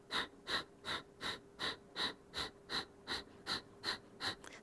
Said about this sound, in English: And then let's start the breathing again.